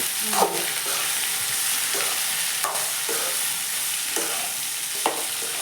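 Potatoes being stirred in a pan for potato curry, a soft frying sizzle under a few distinct spoon scrapes and knocks against the pan, close and alone with no talking.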